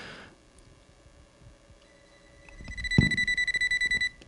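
Handheld voltage tester beeping, a rapid series of about a dozen short, even, high-pitched electronic beeps, close and clear after a quiet lead-in.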